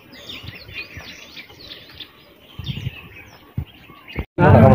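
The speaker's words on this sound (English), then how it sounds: "Hope you guys can hear the birds yapping." Birds chirp and coo around a bus stop in Nanyuki, Kenya, bright scattered calls at moderate distance over a low murmur, ending in a sudden loud burst of noise.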